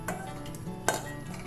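Metal spoon scraping and tapping against a metal strainer while pressing fruit pulp for Ottoman sherbet, giving light clinks with one sharper knock midway, close and alone.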